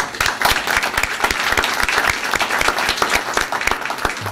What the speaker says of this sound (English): let's give a round of applause for John Marsh